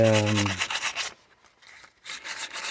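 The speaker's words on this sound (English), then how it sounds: "gonna go to a higher grit sandpaper" Gunmetal is rubbed with sandpaper in quick, close, rhythmic strokes for about a second, then a short pause and a few more scratchy passes.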